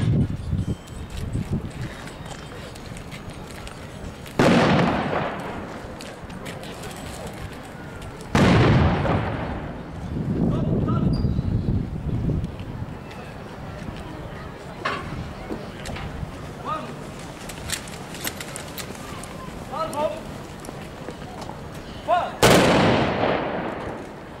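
Honorary cannon and rifle salute volleys at a historical reenactment of Poland's wedding to the sea, held by the water: several loud, booming blasts spaced seconds apart, each trailing off in a long rumble, with crowd noise and talk between them.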